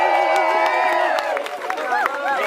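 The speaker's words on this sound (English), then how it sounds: "So a big round of applause." A crowd at a gathering outside court cheers and claps, a dense wash of voices and applause that stays loud and steady throughout, with whoops rising above the mass.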